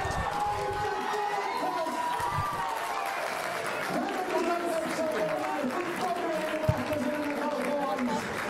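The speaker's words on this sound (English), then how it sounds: "And we hear the crowd go wild" Stadium crowd at a South African under-18 boys' 110m hurdles championship cheering after a national record run, a steady distant roar of cheers and applause under continuous talk.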